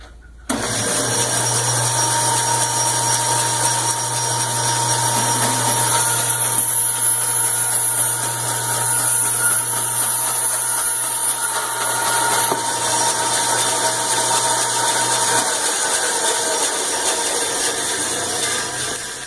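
A Forrest 230 band saw, able to cut pieces up to 25 inches, fitted with a fine 20 tooth-per-inch blade, runs with a loud steady motor whine and high hiss as it slices through a cardboard box, then spins down near the end.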